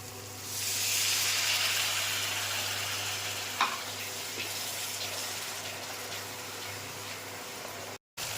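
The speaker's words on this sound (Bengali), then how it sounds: "দেখছেন ধীরে ধীরে মশলাটা কষা হয়ে গেছে, তেল ছাড়তে শুরু করেছে।" Masala for mutton biryani frying in oil while being stirred, a steady close sizzle with soft scraping and one brief clink, the hiss easing slightly before cutting out near the end.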